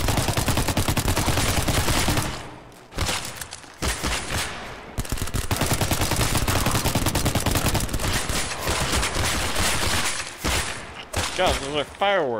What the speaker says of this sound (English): God, those are fireworks.